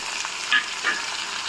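Tomato and coriander frying in a pan give a steady, close sizzle with a couple of brief stirring scrapes, no voices.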